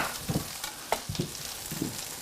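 Sausage sizzling in a pan while jambalaya cooks, giving a steady frying hiss broken by a few soft stirring scrapes and clacks, close and moderately loud with no talk.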